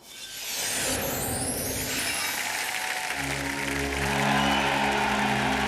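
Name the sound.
ice rink crowd stamping and cheering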